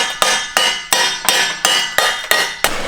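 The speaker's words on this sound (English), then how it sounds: "Hit it with a hammer" Eight sharp metallic hammer strikes land in a steady rhythm, each ringing briefly before the next, loud and close with no talking.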